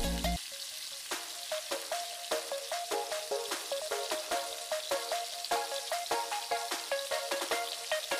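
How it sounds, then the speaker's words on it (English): Spicy chicken drumsticks frying on medium flame, a steady close crackle of hot oil with dense rapid popping, continuous and even throughout, no voices. "Fry on medium flame until golden brown."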